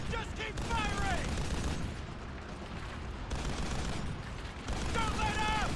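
Sustained gunfire from a video game battle rattles on as a dense, continuous barrage, with short voice fragments breaking through over the shooting.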